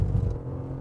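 VW Golf GTI VR6 engine on a fast lap, a brief low rumble with a short burst of revving, close by.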